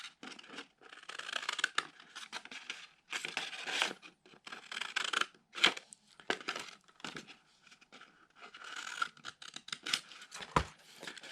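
Scissors snip through paper for a paper sculpture in bursts of close crisp cuts, with short pauses and a faint rustle as the sheet shifts between strokes.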